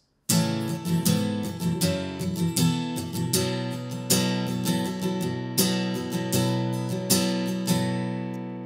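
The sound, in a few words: acoustic guitar strumming chord progression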